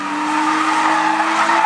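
A rally-style car drifting at a drifting competition in Bivaröd, its engine revving hard and steady with a continuous tonal drone, tires hissing underneath, loud and close throughout.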